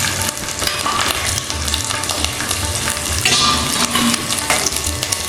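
Whole spices and ginger paste fry in hot oil for a Bengali banana blossom and prawn dish: a loud, dense sizzle with continuous stirring scrapes throughout.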